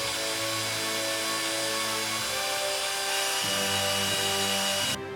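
A cordless drill whirs steadily at close range driving screws into a wooden pegboard thread rack, its pitch dropping as the load changes before cutting off abruptly near the end.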